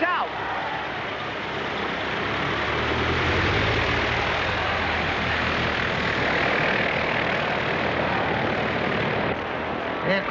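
A loud, steady roar of an airplane engine builds slightly and holds, close by and continuous, like an aircraft powering up for takeoff.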